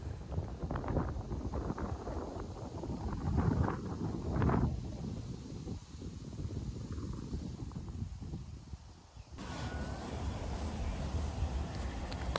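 Strong, cold wind buffets the microphone in gusty, rumbling bursts on a high lookout, with a sudden brighter roar near the end; no one speaks.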